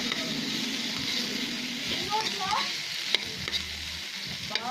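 Leftover adobo meat frying in a pan while being stirred, giving a continuous close sizzle with scraping and clinks of the spatula; a brief low hum appears near the end.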